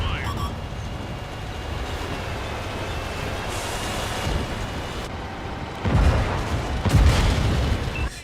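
A tank's main gun fires in an Xbox tank video game, two loud, close booms near the end rising over a steady rumbling engine drone.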